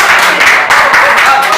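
Schoolchildren clapping together in a classroom during preparations for a 26 January program, a loud, dense and steady burst of applause filling the room with little break.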